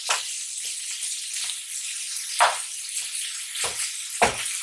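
Sausage frying in a pan while it is crumbled and broken up for gravy, a loud continuous close sizzle with occasional scraping pushes of a utensil.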